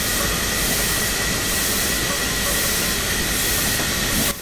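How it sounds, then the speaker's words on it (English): Air brakes on a heavy freight train in Train Simulator Classic hiss out in a continuous broad rush of released air, steady and fairly loud, with no voices. "Releasing more air."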